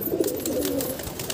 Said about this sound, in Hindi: कबूतर डर रहे हैं, ऊपर जाके बढ़ गया कबूतर